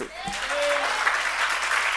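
A church congregation claps during a fasting prayer service, producing a dense, steady wash of applause after a brief voice at the start.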